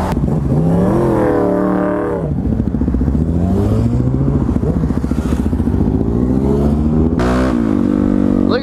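Loud, close motorcycle engines rev and rumble as a group of riders pulls away on city streets during a bike-life ride, with people talking over the engine noise throughout.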